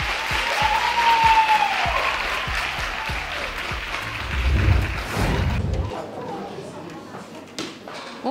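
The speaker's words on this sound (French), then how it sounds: "un tonnerre d'applaudissements pour le numéro 1, la numéro 1, Rachda." Audience applause for a contestant at a semi-final show, loud clapping and cheering over rhythmic music beats, fading out after about six seconds into quieter room sound.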